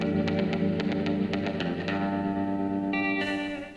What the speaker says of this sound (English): I found some music from YouTube's audio library which sounds like this